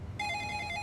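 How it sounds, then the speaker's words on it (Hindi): An electronic phone ring starts abruptly, a steady high tone sounding close and clear for under a second, with no voices. "अरे आईपीएस का फोन।"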